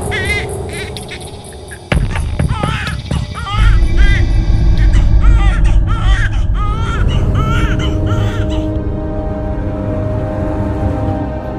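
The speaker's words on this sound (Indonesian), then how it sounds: "ya malamnya yang ngerintih suara bayi nangis apa gitu" Baby crying at night in a cemetery: loud, wavering wails over a heavy, rumbling, noisy background that grows denser partway through, repeating for several seconds.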